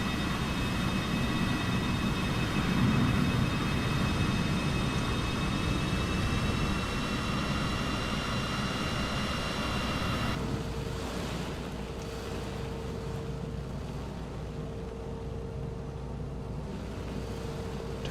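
An airliner taxiing along a massive runway at night in Microsoft Flight Simulator 2024: a steady, loud engine roar with high whining tones that drops abruptly to a softer, lower hum partway through, with no talk.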